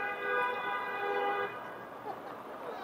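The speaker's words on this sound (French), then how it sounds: "Et des klaxons." Car horns blare in busy city street traffic in Toronto, a sustained loud honk for about a second and a half, then fainter traffic noise with distant voices.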